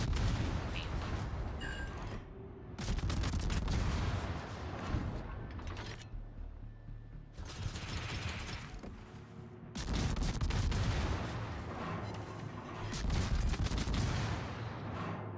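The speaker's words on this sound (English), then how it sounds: "he's now just getting shelled into oblivion" Heavy naval artillery shelling from World of Warships, loud booming salvos in repeated bursts with rumbling decay and mechanical clatter between volleys, dense and close throughout.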